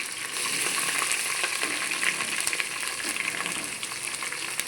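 Onions fry in a pan for bagara rice, giving a loud, continuous sizzle and crackle up close, with faint stirring scrapes and no voices.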